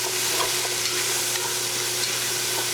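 Chopped onion fries in oil in a pot for Sunday gravy while a utensil stirs it, giving a steady, close, dense sizzle throughout with faint scraping under it and no talking.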